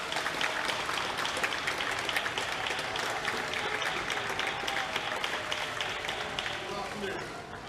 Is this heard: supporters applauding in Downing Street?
yes